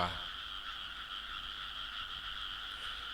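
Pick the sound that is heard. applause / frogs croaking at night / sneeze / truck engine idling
frogs croaking at night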